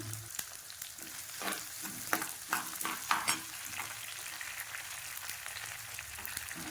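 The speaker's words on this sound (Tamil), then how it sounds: "ரெண்டு பச்சை மிளகாய் இப்போ இதை வந்து நல்லா வதக்கிக்கலாம்" Two green chillies sautéed in a pan, a faint steady sizzle with a cluster of soft scraping stirs in the middle, no voices.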